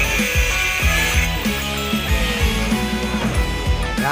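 Angle grinder cutting through metal, a loud continuous abrasive whine with rhythmic rasping pulses as the disc bites, steady and close throughout.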